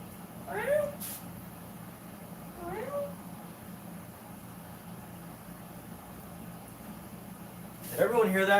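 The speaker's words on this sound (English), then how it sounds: "Did everyone hear my cat talk to me?" A house cat meows twice in short rising calls early on, then again more loudly near the end, close by in a quiet indoor room with a low steady hum underneath.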